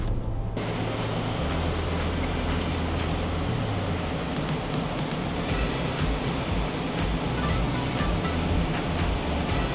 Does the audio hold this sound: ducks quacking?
no